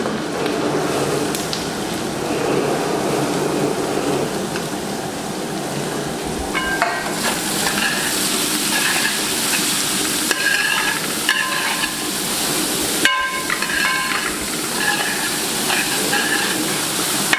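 Finely chopped onions sizzle in a pan on slow heat for a Kerala-style chicken roast, a loud continuous frying hiss with occasional stirring scrapes and clinks throughout.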